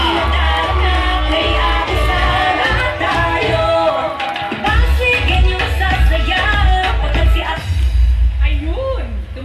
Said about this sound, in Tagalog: isang malakas sa palakpakan may kasamang hiyawan